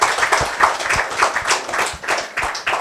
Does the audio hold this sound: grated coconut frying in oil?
no